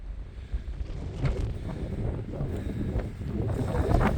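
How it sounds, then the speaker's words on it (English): Strong wind buffets the microphone in steady gusts on the freezing mountainside of Slievanea Northeast, County Kerry, a loud broadband rumble with no voices. "freezing cold, very windy"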